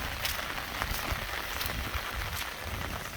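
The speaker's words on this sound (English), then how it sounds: "we just had a major downpour and it's still coming down pretty good" Heavy rain pours down in a steady, dense hiss of drops hitting the surfaces around, continuous and close, with no speech.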